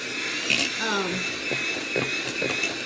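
Cake mixture for a million dollar cake being whisked by an electric mixer, a continuous loud whirring drone with a slightly shifting pitch, while someone talks over it.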